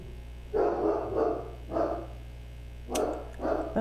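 A dog barks in the background, several separate woofs spaced out in an irregular rhythm, moderately loud over a steady low electrical hum in an indoor room.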